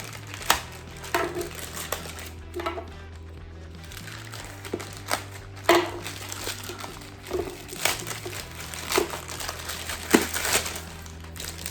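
A plastic mailer package is cut open with a knife, giving close crinkling and crumpling plastic with irregular sharp rustles and scrapes, over a steady low hum, without speech.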